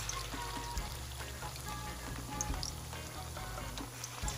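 Chicken frying in a pan for a honey garlic soy sauce dish, giving a continuous crackling sizzle with patters and pops alongside a low steady hum.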